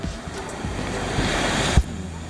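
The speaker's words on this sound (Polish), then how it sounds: "Takie morze niespokojne." Restless sea surf on a sandy Polish beach rumbles and hisses steadily, close by, with wind buffeting the microphone and a brief thump near the end.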